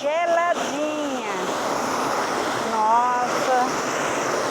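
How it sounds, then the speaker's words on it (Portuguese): A waterfall on a farm with cold water, a constant loud rushing roar that fills the whole clip while people talk over it. "Cachoeira maravilhosa."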